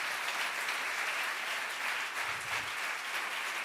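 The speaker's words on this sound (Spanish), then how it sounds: "Dale un fuerte aplauso al Señor." A church congregation applauds loudly and steadily at a Spanish-language service, dense clapping sustained for the whole stretch with no voices over it.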